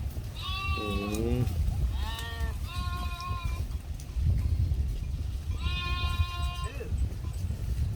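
A large herd of goats and sheep raised on open grazing land bleats in several clear, wavering calls over a low, continuous outdoor rumble.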